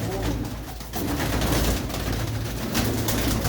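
A flock of pigeons kept in a loft coo in low, throaty, overlapping calls, close and steady over a dense background of bird noise.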